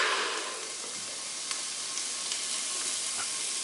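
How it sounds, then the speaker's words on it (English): Onions sauté in a hot pan for albondigas soup, giving a continuous bright sizzle with small scattered pops and crackles, close and fairly quiet, with no talking. "And the onions, you're just gonna saute them real quick, get some flavor out of it"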